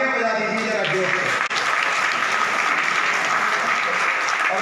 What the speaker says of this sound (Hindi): तो एक बार आप सब अपने लिए तालियां बजा दीजिए जरा जोर से।